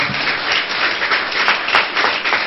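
A congregation applauds during a church sermon, a dense, even burst of clapping from many hands with no talking over it.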